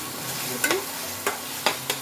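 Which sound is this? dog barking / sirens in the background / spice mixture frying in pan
spice mixture frying in pan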